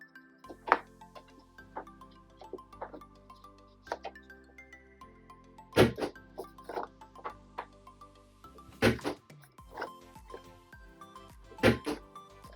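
A corner rounder punch on The Works all-in-one envelope tool clunks several times as paper corners are punched: sharp, close mechanical snaps spaced a few seconds apart over a faint, steady musical backdrop.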